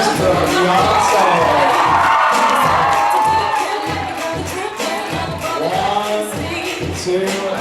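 A loud, sustained crowd cheering and shouting, with children's voices whooping, at a charity bike-a-thon event. The noise holds steady for several seconds and eases slightly toward the end.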